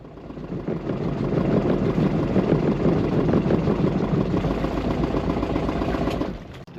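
An older wooden boat's engine idles slowly and continuously, a low, rumbling mid-pitched drone with a slight pulsing, holding level before cutting off near the end.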